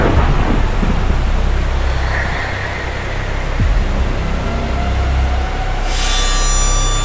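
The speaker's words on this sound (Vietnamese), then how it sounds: "để bão nổi lên đe dọa dân lành như vậy" Animated storm scene in a Vietnamese 3D folk-tale film: loud, steady rain and wind roar filling the scene with a deep rumble of thunder underneath, no voices.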